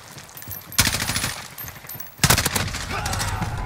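Enemy sniper fire in a shooter video game: two sharp, loud shots, each followed by a ringing, decaying tail, separated by about a second and a half.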